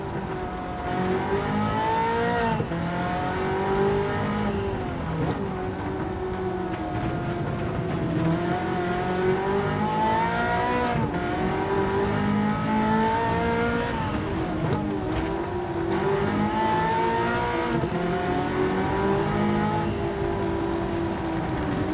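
A Ferrari F40 on the Nürburgring drives through a continuous, loud engine note with rising and falling harmonics as it shifts and accelerates, with no talk over it.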